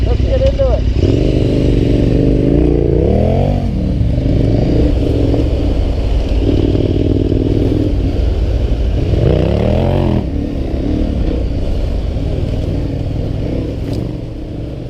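A KTM 1190R Adventure motorcycle riding off-road, its engine loud and close with rising and falling revs as the rider works the throttle, with a voice speaking over the engine noise.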